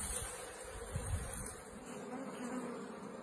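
Honeybees buzz around a hive, a steady close-up drone with a continuous high whine and low murmur, lasting throughout with no voices.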